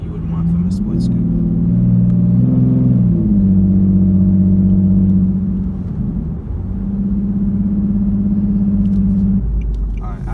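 A modified, loud 2011 Infiniti G37xS coupe runs on the road with a steady, droning engine note that rises briefly, dips near the middle and settles back into an even hum, close and continuous.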